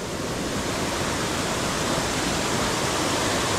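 Mountain stream water rushing steadily along a rocky ravine near a waterfall, a loud, continuous broadband roar with no pauses and no voices.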